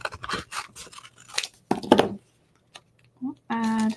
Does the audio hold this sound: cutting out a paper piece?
yes